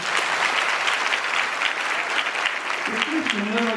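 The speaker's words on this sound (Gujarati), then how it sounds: "ખરેખર એકવાર સમિતિ માટે તાળીઓથી વધાવી લો।" A seated crowd at a religious katha gathering gives sustained, dense applause close by, and a voice begins speaking over it near the end.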